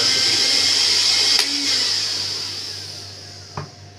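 A juicer blender motor runs at its third speed, a steady loud whir with a high whine, slowly easing down toward the end with a couple of short clicks.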